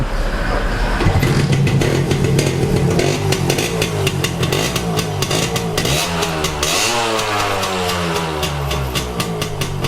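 Motorcycle engine under repair, with a fault where revving gives noise but little pull, revved hard and continuously at close range, loud throttle blips rising and falling across the whole stretch.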